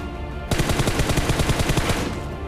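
Rapid bursts of automatic gunfire from the mobile battle royale game PUBG Mobile erupt suddenly and rattle on loudly in an even, fast rhythm until the clip ends.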